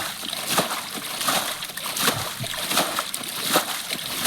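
Water is splashed and sloshed by hand in a shallow pond while catching fish, with repeated uneven splashes close by and no talking.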